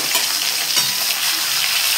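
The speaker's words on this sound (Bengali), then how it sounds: "চলো মাছগুলো ভেজে নিই।" Fish sizzles steadily in hot oil, a dense, close crackle and spatter that holds at an even level throughout, with no voices.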